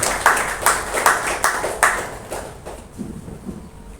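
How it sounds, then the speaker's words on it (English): An audience at an Ultraviolette company event claps for a colleague's achievement: a few sharp, evenly spaced claps stand out at first, then the clapping thins and fades. "let's all put together a big round of applause for Bala's achievement"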